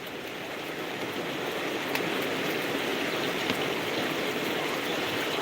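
Heavy rain pours down in a loud, steady, unbroken outdoor hiss that fills the whole stretch, with no voices over it.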